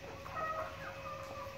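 Farm chickens kept in a pen cluck and murmur together, several overlapping calls at close to medium range with no talking.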